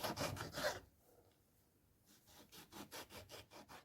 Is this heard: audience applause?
no